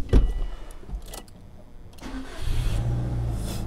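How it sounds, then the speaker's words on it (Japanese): A Subaru Impreza WRX STI 2.0 engine cranks, catches and settles into a steady idle, close by after a few clicks and thumps. "ではちょっとエンジンをかけてみましょう。"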